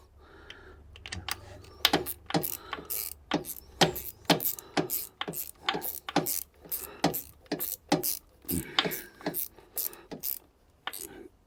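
Bolts being tightened by hand while a supercharger is fitted onto a Hemi engine: a steady run of quick, sharp metallic ratchet clicks, close and fairly loud, with brief pauses between bursts and no speech.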